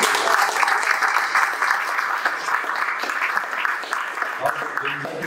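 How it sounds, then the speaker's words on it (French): An audience applauds in a hall set up as a bar during a 2024 community event. Dense, steady clapping fills the whole stretch, fading slightly toward the end, with voices mixed in. "je pense qu'on peut l'applaudir"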